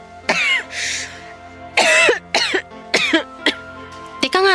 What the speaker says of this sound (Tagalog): napapansin ko parang ilang araw na yung ubo mo